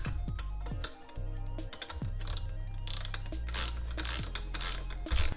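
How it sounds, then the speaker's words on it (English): Ratcheting and clicking of hand tools, a 13 mm wrench and 6 mm Allen key, tightening nuts and bolts on Planted seat brackets during a Braum seat install in an Audi B5 S4, with clear mechanical clicks and a steady low hum. "that's a 13 mil wrench for the nut, and then the same 6 mil Allen that we're using for the bolt"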